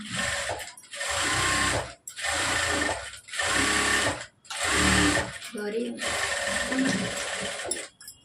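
A sewing machine stitching the side seam of a blouse in a tailoring boutique runs in several loud bursts of rapid mechanical whirring, each a second or so long and separated by brief pauses, with someone talking over the machine.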